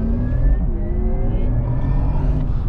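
Electric Porsche Taycan Turbo S driving fast, a loud close whirring motor whine with rising and shifting tones over road and tire roar, no voices.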